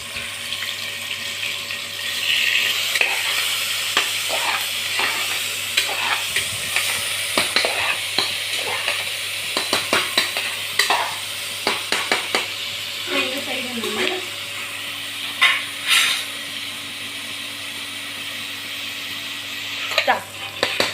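Onions and three green chillies sautéed in a pan over a wood fire, with steady frying sizzle and repeated stirring scrapes throughout, fairly close and loud, with no talking.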